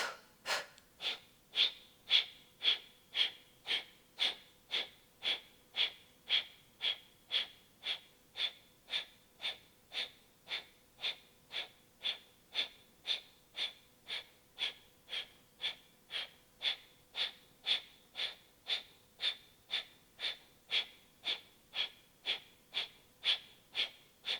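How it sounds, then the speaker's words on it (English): Slow, steady yoga breathing: long, even inhales and exhales repeat in a regular rhythm, close and clear, with no talking. "So inhale deeply. And exhale."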